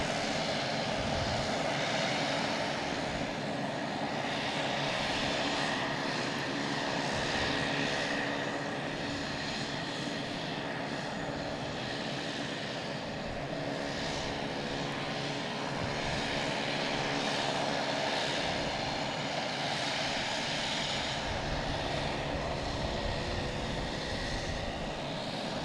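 Boeing 737-800 jet coming in to land at Boston Logan, its engines a loud, continuous rumbling roar with steady droning tones, sustained and close throughout with no talk.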